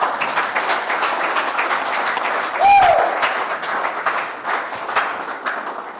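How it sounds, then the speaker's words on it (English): Audience applause at an outdoor bass fishing tournament weigh-in, a steady crowd clapping across the whole stretch with a brief whistle-like cheer partway through. "Give him another round of applause."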